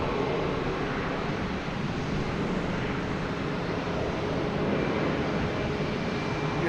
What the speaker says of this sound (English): JetBlue and E190 heading to Buffalo.